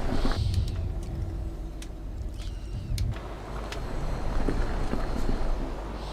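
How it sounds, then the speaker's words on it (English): Steady road traffic in Euro Truck Simulator 2, a continuous low engine rumble and tyre hum with faint passing whooshes and occasional light clicks, moderately loud and without speech. "I can hear the traffic of the main road"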